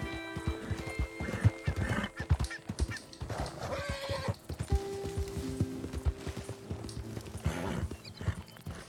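A horse in Red Dead Redemption 2 plods with steady clip-clop hoofbeats and gives a clear whinny partway through, over layered game ambience and music.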